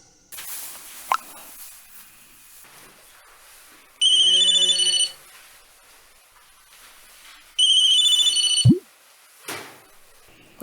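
An outgoing phone call on a borrowed mobile gives two separate ringback tone bursts, each about a second long, with quiet gaps and a soft click or plop between them. No one speaks.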